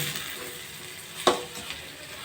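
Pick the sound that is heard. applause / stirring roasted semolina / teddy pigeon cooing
stirring roasted semolina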